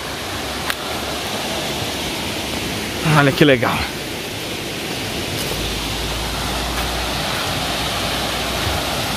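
Steady, broadband roar of a waterfall at Águas da Prata, heard from a lookout above, fills the whole clip, with a person briefly speaking partway through.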